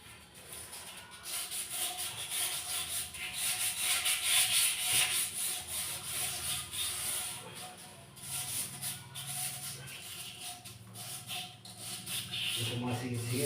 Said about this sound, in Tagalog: liha na pala ang ginagamit natin para matanggal